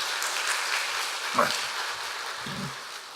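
A church congregation claps steadily, a dense, even patter of applause filling the room.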